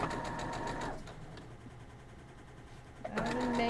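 A sewing machine stitches down a quilt block strip, running steadily for about a second, stopping for a quiet pause, then starting up again close and clear.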